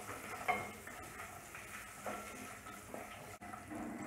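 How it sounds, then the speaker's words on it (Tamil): Cashews roasting in a pan with cumin and green chilies, a quiet sizzle with occasional soft stirring scrapes, fairly faint and without speech. "நல்லா கொஞ்சம் செவக்க வறுத்துக்குவோம்"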